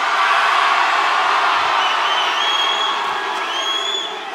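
Concert crowd cheering at a show at the iTunes Festival in London, a loud sustained roar of many voices with whoops and shouts that fades slightly toward the end.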